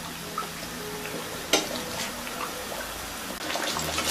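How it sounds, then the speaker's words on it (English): Potato pakora fries in hot oil, giving a steady close sizzle and crackle with a brief splashy burst as batter drops in. "Dip it nicely and inside the hot oil."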